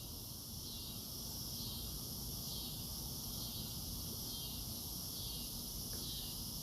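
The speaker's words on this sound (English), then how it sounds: "they like the sound of my cicadas too" Cicadas buzz in a steady, high-pitched drone that swells and fades in slow pulses, continuous throughout with no voices.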